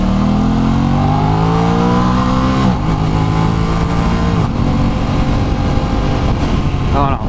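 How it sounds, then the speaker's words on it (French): An Aprilia RS660 A2 sport motorcycle accelerates hard through the gears, the engine note climbing steeply then dropping at each shift before rising again, loud and close from the riding position, with wind noise throughout. "on va faire une petite accélération"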